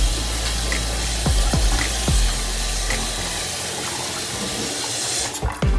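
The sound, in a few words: tap water running while rinsing chicken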